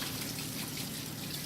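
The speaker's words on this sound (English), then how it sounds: "Let me get my hands a quick wash." Hands being washed under a running kitchen tap: a steady, close rush of flowing water with a soft splashing texture, continuous for the whole short stretch and free of talk.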